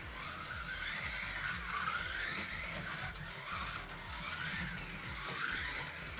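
A lime green Revoslot Opel Kadett GT/E slot car whirs at speed around a track, its electric motor whining in repeated rising and falling sweeps as it laps and corners, steady and fairly close with no talk.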